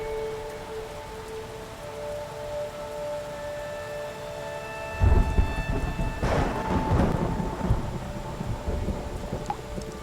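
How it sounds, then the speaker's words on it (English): A monsoon thunderstorm on Big Sister Island, Singapore: steady heavy rain hisses throughout, then a loud, deep thunderclap rumbles in about halfway through and rolls on under the downpour. "Singapore's monsoons bring daily rainstorms."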